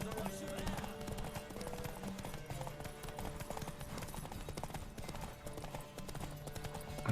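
Horse hooves gallop in a steady clip-clop rhythm in the video game Witcher 3, loud and continuous alongside game music, with a brief whinny possible.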